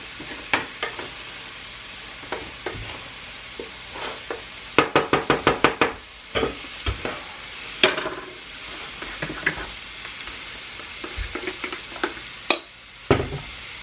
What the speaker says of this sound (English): I need to stir these apples. Let's stir those up real quick.